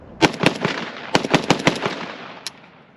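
An AK rifle in the Modern Warfare II video game fires a rapid string of sharp shots, about a dozen close, loud cracks in quick bursts with a short pause in between.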